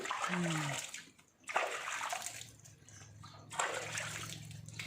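Water splashing and pouring while a dog is bathed, with two loud gushing stretches separated by a brief lull and a softer, steadier trickle in between.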